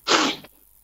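A single sharp sneeze bursts out close and loud, trailing off quickly into quiet, heard during a call-in segment on a Nigerian radio talk show.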